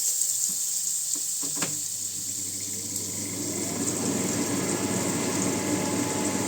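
Butter melting in a pan for pasta gives off a steady, close sizzle that builds and holds throughout, with a few light clinks near the start and no voices.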